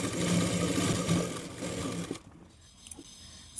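A sewing machine runs steadily while stitching a sleeve onto fabric, a close, dense mechanical whir for about two seconds before it stops, leaving quiet room noise and a few faint clicks.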